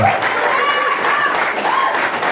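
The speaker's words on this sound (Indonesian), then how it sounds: "tepuk tangan untuk tim Berlian" Applause for a team at a community gathering in Indonesia, a steady crowd clapping sustained throughout with voices and chatter mixed in.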